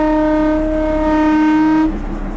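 A narrow gauge train near Bilimora sounds a long, steady, loud horn blast that holds for about two seconds and then cuts off, leaving a low rumble.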